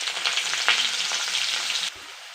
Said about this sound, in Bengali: ওই কড়াতেই আমি ভেজে নিচ্ছি পেঁয়াজ